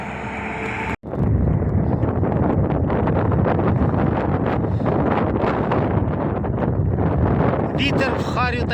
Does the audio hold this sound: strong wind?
yes